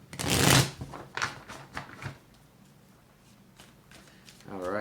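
Tarot cards being shuffled by hand, a loud riffle up front followed by several softer shuffling flicks, with a voice speaking alongside.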